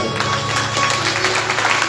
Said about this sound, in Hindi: ताली बजा दे जरा जोरदार।